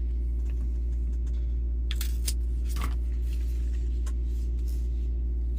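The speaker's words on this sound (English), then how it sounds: "So let's cut those." Scissors snip through ribbons, producing a few short, sharp crisp cuts spaced irregularly over a steady low background hum, fairly faint and close.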